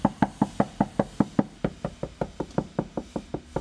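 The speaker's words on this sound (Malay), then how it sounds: "Ini result bila Zik ketuk dekat lantai." Quick, even knocks land on a car's soundproofed floor, about eighteen dull, damped raps in a steady rhythm, close and clear with no talk.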